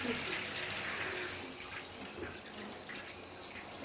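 Running water rinses a pet during its first bath, a steady splashing and pouring stream like a tap or tub filling, continuous and fairly close throughout.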